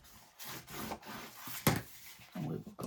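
A paper fold is burnished down by hand: short rubbing and scraping strokes come in irregular bursts, close and fairly quiet, one sharper swipe standing out midway.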